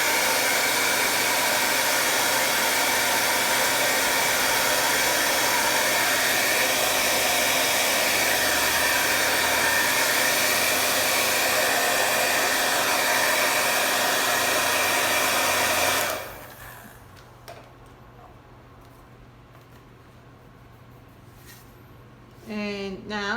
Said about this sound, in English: Okay, the paint is not actually dry. I'm just gonna get my hair dryer.